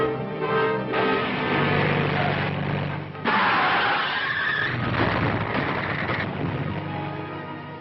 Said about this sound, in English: Why, it's Philip's car